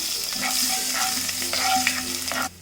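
A single garlic clove sizzles in hot oil in a pan for a spicy masala pasta, a close, steady frying hiss with light stirring scrapes that stops abruptly near the end.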